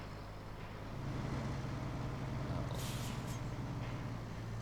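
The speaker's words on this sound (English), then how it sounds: "I can hear an engine approaching behind me" A semi-truck engine approaches from behind in the driving game Roadcraft, a steady low rumble that grows slightly louder, with a brief hiss partway through.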